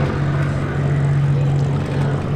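A Curtiss Hawk 75 propeller fighter flies at the Duxford airshow, its engine a steady, loud droning roar with a constant low hum, heard alone throughout.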